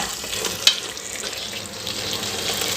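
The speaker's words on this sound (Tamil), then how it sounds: "நல்லா மிக்ஸ் பண்ணி கொடுத்துக்கலாங்க சிக்கனை." Chicken coated in ground paste sizzles steadily in a hot pan, stirred with one sharp clink of a utensil against the pan over the even frying noise.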